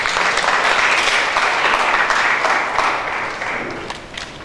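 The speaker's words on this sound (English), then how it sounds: "After we're going to clap hands for ourselves a little bit." Graduates at a university graduation ceremony in an auditorium clap for themselves, a dense, steady roomful of applause that holds strong and then begins to thin toward the end.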